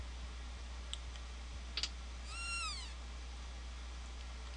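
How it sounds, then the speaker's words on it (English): A cat meows once in the video game Chrono Trigger, a short rising-then-falling chirp against a steady low hum, with a few faint clicks before it. "Little kitty cat."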